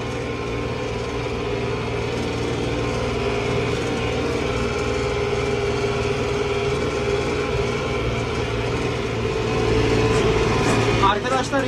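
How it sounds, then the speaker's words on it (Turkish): A tractor engine runs under load in a field, holding a steady, low, rumbling drone that swells slightly near the end as it revs. "Gaz vermeden devrimi toparlamıyor."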